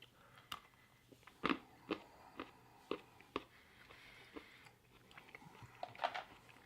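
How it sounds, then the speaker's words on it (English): Close, quiet chewing of a chocolate bar from a Russian mountain ration, with irregular crunchy bites and soft mastication sounds repeating over several seconds. "Try the chocolate bar."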